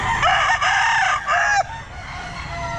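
A young rooster stag at a pet market crows loudly and close up, giving one long broken call in a few strained bursts before fading into background noise.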